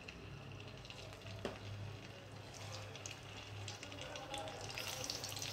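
Eggplants for a stuffed eggplant curry fry in hot oil, a soft, faint sizzle with occasional sharp clinks and light stirring, close by.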